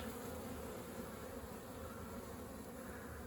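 Honeybees swarm in front of their hive in early February in the Black Sea region of Turkey, young bees taking orientation flights, making a dense, even buzzing drone, quiet but continuous with no voices.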